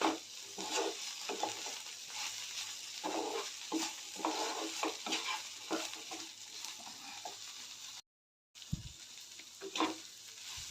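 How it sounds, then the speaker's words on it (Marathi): Okra fry with onion, garlic and masala stirred in a pan, a steady close sizzle with repeated scraping strokes and a brief silent gap near the end. "कांदा लसण लसूण मसाला घालून व्यवस्थित सर्व मिक्स करून घेते"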